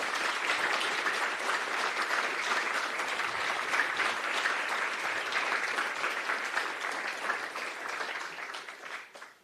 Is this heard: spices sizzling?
no